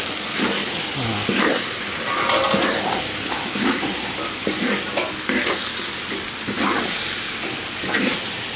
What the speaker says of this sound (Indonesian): Kacau-kacau dia.